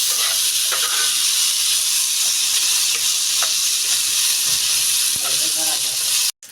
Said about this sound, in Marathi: आपले काजू भाजलेले आहेत तेलावरती परतून झालेले आहेत